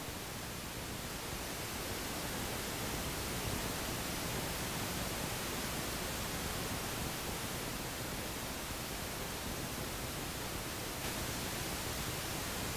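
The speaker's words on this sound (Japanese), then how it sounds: "今度は逆に前面右から左へ音像を移動させます。" Broadband test noise from a 1987 Sony ED Beta Dolby Surround test tape, panned across the front speakers from right to left, holding a steady, even hiss throughout with a slight tonal shift near the end.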